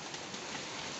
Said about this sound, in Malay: So kita enjoy sesama bunyi hujan ni.